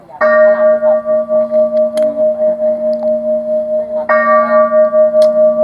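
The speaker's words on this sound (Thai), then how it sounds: "ระฆังดังดี" A large Thai temple bell struck twice, each strike ringing out loud and clear with a long, pulsing hum that lingers between hits.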